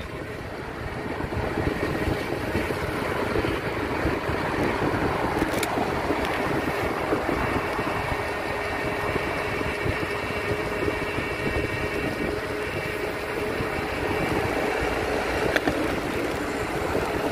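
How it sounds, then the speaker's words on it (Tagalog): An e-bike rides along a municipal road with a bike lane on the way to work, giving a steady whir of motor and wind rush that continues unbroken throughout, with no talk. "Naka-e-bike lang po ako."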